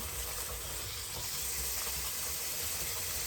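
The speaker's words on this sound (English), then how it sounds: "now we're just gonna rinse it out" Warm tap water pours and splashes steadily for a few seconds while rinsing a purse, a continuous close hiss with no voices.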